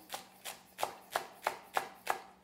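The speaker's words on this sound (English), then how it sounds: "I'm just going to chop up my green onion." A knife chops green onion on a cutting board in an even rhythm of seven crisp, close taps, each about a third of a second apart, with no talking.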